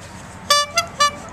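A toy car horn beeps three short times in quick succession, bright and close, over a quiet background.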